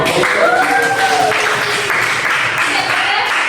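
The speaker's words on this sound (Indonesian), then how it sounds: "Kita kasih aplaus dulu untuk Dimas dan" An audience applauds at a chemistry expo teaching event, a dense, close burst of clapping over a few seconds, with talk and voices mixed in.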